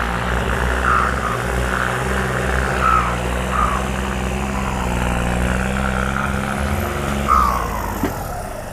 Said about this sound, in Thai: อยากให้ลูกค้าได้ชมเสียงเทอร์โบที่ ใกล้เคียงนะครับใกล้เคียงสมจริง